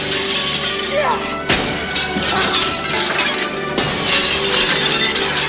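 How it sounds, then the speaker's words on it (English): Rocks smashing the windows of an old depot: two loud bursts of shattering glass a couple of seconds apart, each followed by tinkling shards falling. "the two ran off to an old depot and started smashing windows with rocks"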